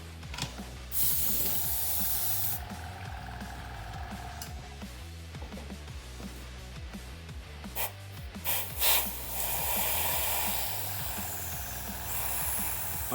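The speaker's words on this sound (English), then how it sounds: "So I'm gonna decant the aerosol paint and then transfer to my airbrush here." An airbrush sprays brown aerosol paint, decanted from the can, onto a Brawl Black Mamba model around the wheel track, giving a close, steady hiss in repeated bursts over a busy background.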